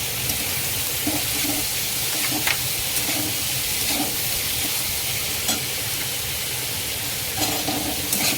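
Capsicum and corn kernels fry in a pan for a Maggi masala frankie filling, giving a continuous close sizzle broken by periodic spatula scrapes and stirring taps.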